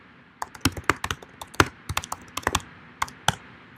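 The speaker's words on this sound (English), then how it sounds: "let's type in the new keyword we found," Quick bursts of keystrokes on a computer keyboard, uneven taps clustered together as a search keyword is typed, close and clear with no talking.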